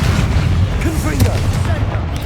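Explosive Confringo spell blasts in Hogwarts Legacy, a dense booming rumble with scattered crackles running continuously, with in-game voices talking over it.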